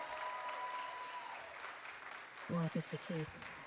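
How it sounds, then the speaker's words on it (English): Audience applause at a youth leadership summit welcome event, moderate and fairly distant, with a voice speaking over the tail end. "May we all give her a round of applause as she comes to the stage."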